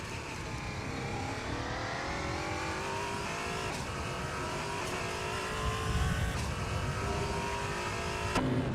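LMP3 and GT4 race cars, including a Camaro, roar around Hockenheimring, with engines revving and rising in pitch through gear changes, loud and continuous, with no talk.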